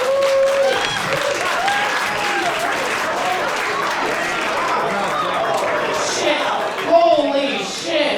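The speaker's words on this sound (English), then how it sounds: "clap your fucking hands for these two fucking competitors" Audience applause and whooping at a comedy roast battle in Denver, dense sustained clapping from a lively crowd with shouts and chatter mixed in, loud throughout with a swell near the end.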